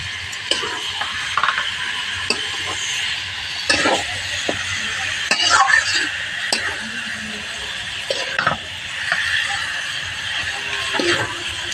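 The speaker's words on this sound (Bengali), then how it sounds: "নাড়াচাড়া দিয়ে সমস্ত মশলাগুলো মিশিয়ে নিচ্ছি" Chicken being stirred with spices in a pan for a Bengali bhuna, with scattered clinks and scraping taps of a utensil against metal at close range over a steady background hiss.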